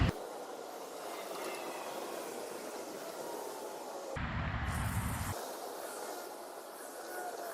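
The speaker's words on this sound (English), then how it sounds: "So I'm really spraying it down into the cracks. I'm trying to flood that nest full of that soapy hot water." Hot soapy water sprayed from a hose nozzle down into cracks in a driveway to flood an ant nest, a steady broadband hiss that runs throughout, briefly shifting to a heavier, rougher rush midway before settling back.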